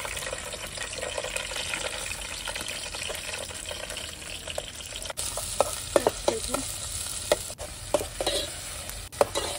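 Chopped onion, tomato and chilli sizzle in hot oil in a wok over a wood-fired clay stove, a steady loud frying hiss broken by sharp spatula scrapes and clicks that grow more frequent toward the end.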